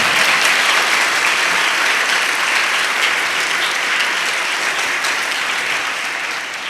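A congregation at St. Clare Parish in Lahore gives parents a sustained round of hearty clapping during a Mother's Day Mass, loud and even throughout and tapering slightly toward the end.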